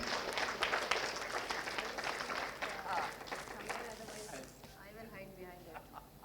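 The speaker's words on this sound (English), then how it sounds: "Applause रुकना नहीं चाहिए, ladies and gentlemen, थोड़ी एनर्जी दिखाइए" An audience claps at an Allahabad University alumni association gathering in Delhi. Brisk, crowded applause fills the first few seconds, then thins and fades as a voice speaks near the end.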